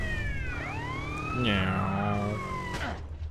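Wailing police siren from a video game, GTA San Andreas, sweeping up and down in pitch, loud and continuous with engine rumble beneath.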